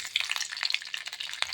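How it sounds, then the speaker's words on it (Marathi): Mustard seeds, cumin and garlic sizzle in hot oil in a kadhai, a close, steady frying crackle with small sharp pops throughout, no talking. "कढईमध्ये कडकडीत तेल गरम झालेले आहे, त्यामध्ये आपण मोहरी, जिरे"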